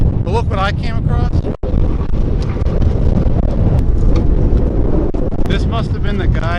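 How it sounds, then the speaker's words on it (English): Strong wind buffets the microphone in a steady, rumbling roar at a race track, with voices and engine-like noise mixed in beneath it. "It is so windy today"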